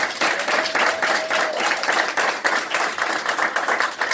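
A room of attendees at a LegalShield presentation applauds a regional manager from Philadelphia, with dense, lively clapping throughout and a faint tone mixed in.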